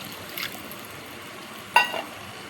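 Water splashes into a pan of frying spice paste for a pabda fish curry with lentil dumplings and eggplant, giving a brief sharp sizzle over a steady low hiss of cooking.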